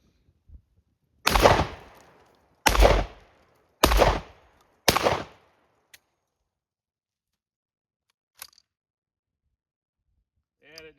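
Shotgun fired four times in a row at roughly one-second gaps, each blast sharp and loud with a short decaying tail, followed by a few faint clicks and handling noises.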